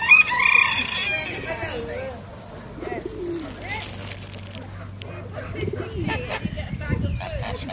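Chickens and ducks at an animal rescue centre, with clucking, cooing and scattered calls spread across the clip, loud at first and then softer, mixed with outdoor background noise.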